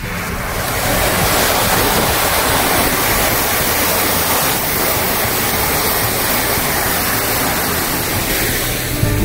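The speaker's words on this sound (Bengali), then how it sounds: "জল পড়ছে" Water pours down near Kurseong station in the hills of North Bengal. It makes a steady, loud, unbroken roar that fills the whole stretch, with wind-like hiss over it.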